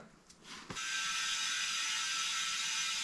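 After a brief clunk, a steady hiss of air rushes into a punctured, plug-repaired tire, continuing loudly and evenly to the end.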